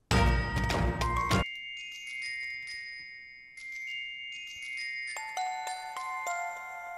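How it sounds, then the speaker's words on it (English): Orchestral chimes doubling a music box in fantasy battle game music: a loud bright tinkling burst at the start, then sparse sustained bell-like tones ringing out and layering in a gentle, magical pattern. "I love to always double it with kind of a chimes"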